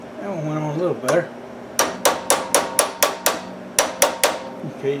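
A hammer taps a bandsaw guide bearing onto its shaft with a run of about a dozen sharp metallic knocks in a steady rhythm, close and loud, after a brief stretch of someone speaking.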